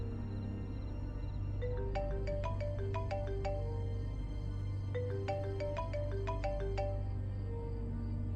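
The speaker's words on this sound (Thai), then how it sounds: "มีโทรศัพท์โทรเข้ามาที่เครื่องของผม" An incoming-call phone ringtone plays as a bright melodic sequence of synthetic tones, repeating its phrase twice over a steady low background hum, with no talking.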